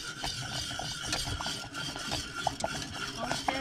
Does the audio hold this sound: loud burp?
no